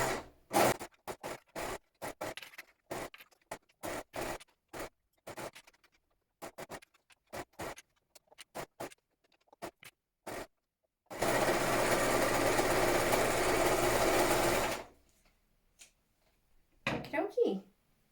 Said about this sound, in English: I find the overlocker just kind of holds it all in place nicely for me as I go round.